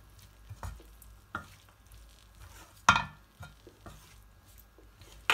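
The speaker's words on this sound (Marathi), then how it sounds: "पूर्ण ढवळून घ्यायचं चांगलं. मसाला सगळा लागला पाहिजे भाजीला." Spicy cabbage and peas masala being stirred in a pan with a wooden spoon, a quiet frying hiss with scattered scrapes and soft knocks and one sharper clack partway through.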